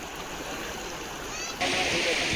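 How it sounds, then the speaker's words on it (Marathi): Floodwater swollen by days of heavy rain in Washim district, Maharashtra, rushes under a bridge as a steady broadband roar that grows suddenly louder partway through. "पुलाखाली पाणी वाहत आहे"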